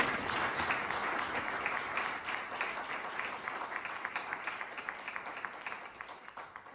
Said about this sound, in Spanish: Un aplauso y que sean bienvenidos.